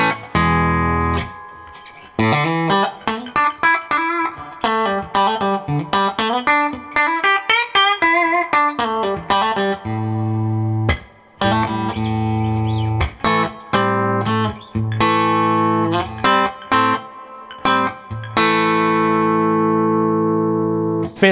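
Clean-toned Fender Custom Shop 2019 Limited Poblano Stratocaster electric guitar on its bridge pickup plays a bright melodic passage of quick single notes, slides and sustained chords, close and alone with a few brief pauses.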